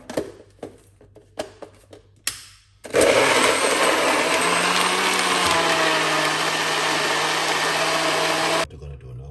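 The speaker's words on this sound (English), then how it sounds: "what we're gonna do is blend this right here" After a few soft knocks and clatters, a blender starts loudly and whirs steadily for several seconds, blending a smoothie of cucumber, kiwi, ginger, lemon and green apple, then stops abruptly.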